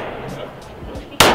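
A single loud gunshot cracks out near the end of a brief outdoor moment at a target shooting session, a sharp broadband blast following quieter background noise and faint voices.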